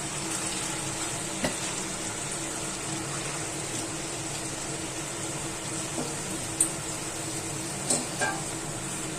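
Chicken pieces lightly frying in a kadai for chicken do pyaza give a steady, even sizzle throughout, with a few faint utensil clicks and no talking.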